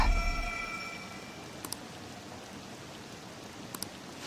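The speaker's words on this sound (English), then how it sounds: "This rain ain't too bad." Rain falls in a Persona 5 video game scene, a steady soft hiss of rainfall throughout, with a brief tonal fade at the start and two faint sharp ticks later.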